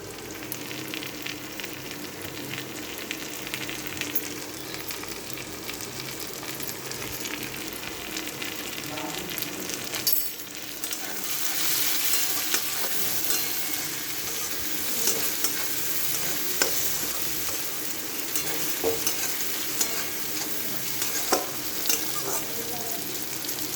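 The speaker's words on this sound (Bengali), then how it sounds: "পেঁয়াজগুলো ভালো করে ভাজা হয়ে গেছে" Onions frying in butter for an egg tarka sizzle steadily at close range while a utensil stirs and scrapes the pan, the hiss swelling slightly partway through, with no talking.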